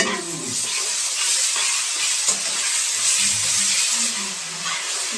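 Ground garlic and ginger paste fries with spices in a hot pan, giving a loud, steady, close sizzle and hiss throughout, broken by soft stirring scrapes.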